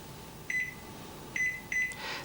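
A Panasonic microwave oven's keypad gives three short electronic beeps as buttons are pressed to set a timer, clear tones above a low steady hum in a quiet kitchen.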